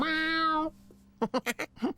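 A cartoon cat lets out one drawn-out, clear meow up close, then short sung or spoken syllables follow right after it.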